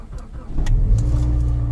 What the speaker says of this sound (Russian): Так, давайте запускаем автомобиль